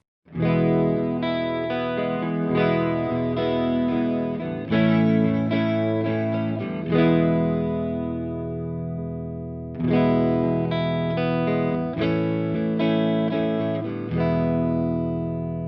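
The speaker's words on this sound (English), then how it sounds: "You can hear it sort of widens that stereo field and adds what seems like multiple guitar players" Guitar chords through a pitch detune effect ring out thick and shimmering, doubled as if several players strum at once, two strummed phrases separated by a held chord.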